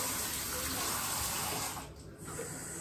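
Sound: cold water running from a tap

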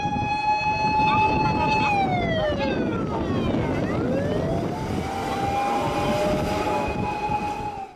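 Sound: fire truck siren

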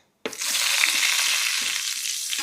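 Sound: cumin, asafoetida, coriander powder and red chutney frying, stirred in pan

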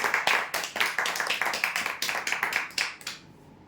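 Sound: applause for prize draw winners

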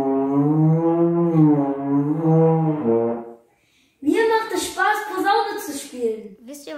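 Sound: trombone notes played by moving the slide

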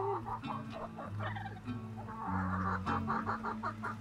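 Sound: chickens clucking

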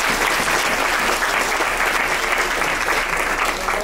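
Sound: audience applause

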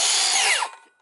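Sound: Milwaukee M18 brushless circular saw cutting

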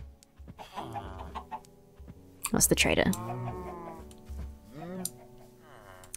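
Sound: chickens clucking in video game Minecraft

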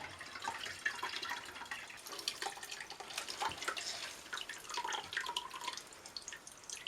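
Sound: pressing alcohol-containing liquid from apple mash cloth bundle

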